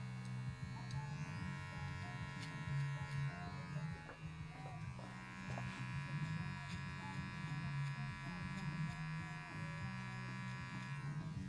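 Electric hair clippers fitted with a one guard trim a bushy beard, giving a quiet, steady buzzing hum that runs for the whole stretch with light scraping variation, and no talking over it.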